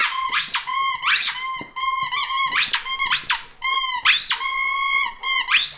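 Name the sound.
squeaky dog toy squeaking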